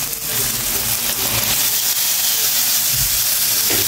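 Kalabasa and sitaw dropped into a hot pan for ginisang kalabasa with hipon, giving a loud, steady steaming hiss and sizzle that holds for several seconds, close up with no talk.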